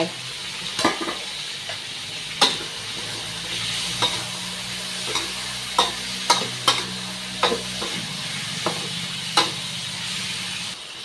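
Cucumber stir-fried in a wok for sweet and sour pork with sugar: a steady sizzle under sharp, intermittent clanks of a spatula against the pan, close and moderately loud, with the frying hiss shifting partway through.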